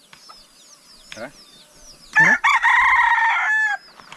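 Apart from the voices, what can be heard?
bantam chickens clucking and rooster crowing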